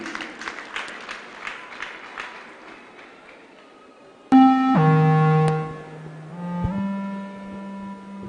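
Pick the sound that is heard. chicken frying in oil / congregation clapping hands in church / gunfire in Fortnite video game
congregation clapping hands in church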